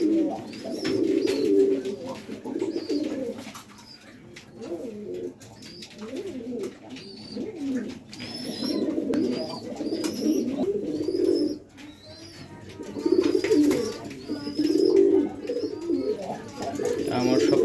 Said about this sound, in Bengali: কবুতরে ডাক যখন ডাকে তখন দাঁড়িয়ে যায় এরকম